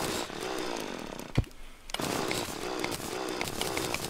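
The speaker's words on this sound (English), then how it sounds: "I replaced my pickaxe with the drill." A mining drill in Terraria whines with a continuous buzzing grind, loud and steady, cut off briefly by a short thud and pause before the drilling resumes.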